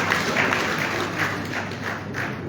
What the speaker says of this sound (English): please, as we call names, please give them a round of applause